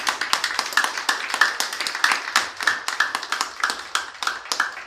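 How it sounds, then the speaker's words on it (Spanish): A church congregation claps in praise, a fairly small group of hands beating at a quick, roughly regular rhythm with sharp individual claps heard close and clear throughout, and no talking over it. "Démosle un aplauso a él."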